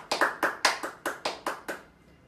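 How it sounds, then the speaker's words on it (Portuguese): Hand claps punctuate an intermediate tap dance lesson, about eight sharp, close claps in a quick, slightly uneven rhythm, each decaying briefly before the next and fading out at the end. "intercalando com 2 palmas"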